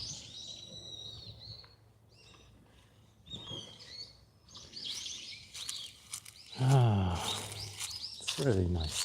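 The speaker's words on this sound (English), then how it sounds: "Birds are still chirping." Small birds chirp and tweet in short bursts outdoors on a sunny day in Tokyo, fairly close, with quieter gaps between calls and some busier overlapping trills near the end.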